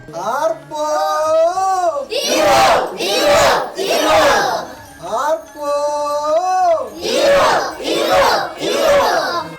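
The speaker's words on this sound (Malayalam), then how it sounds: "പൂവടയുടെ സുഗന്ധം മുറ്റത്താകെ നിറയുമ്പോൾ ഐശ്വര്യത്തിനായി പൂപ്പാട്ടുകളും ആർപ്പുവിളികളും ഉച്ചത്തിൽ മുഴങ്ങും" A crowd at a traditional Onam home celebration chants rhythmic ceremonial cries, a lead voice calling and many voices answering with loud hollers in repeated waves, close and energetic.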